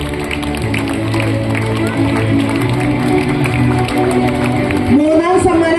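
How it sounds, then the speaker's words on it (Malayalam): Audience applause at a Christmas celebration greets the second prize winners of a Bible quiz, a steady, dense clapping from a crowd that continues throughout with a voice speaking over it. "രണ്ടാം സമ്മാനം നല്ലൊരു കൈയടി കൊടുക്കട്ടെ"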